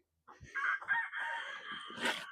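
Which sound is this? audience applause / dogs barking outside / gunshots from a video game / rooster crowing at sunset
rooster crowing at sunset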